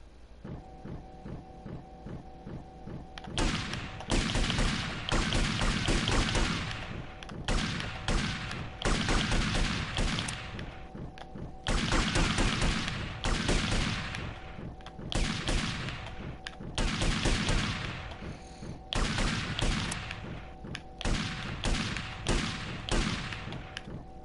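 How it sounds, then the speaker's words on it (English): A firing squad's rifle volley in GTA Vice City Definitive Edition: loud, close bursts of rapid, crackling shots that repeat in clusters for about twenty seconds, with brief gaps between them. "Live ammunition! Aim! 3, 2, 1, fire!"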